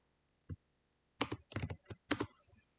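Someone types on a computer keyboard while coding a React form: one isolated keystroke, then quick clusters of soft, close clicks. The typing is fairly faint in a quiet room.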